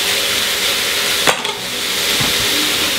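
Steady, close sizzling of diced fennel frying in a pot for beef and barley soup, with a brief scrape or stir midway.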